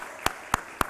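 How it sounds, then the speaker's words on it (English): Three isolated, evenly spaced sharp claps rather than full applause, at a bank's stock exchange bell-ringing ceremony, close and crisp over a quiet room. "we'll give a round of applause"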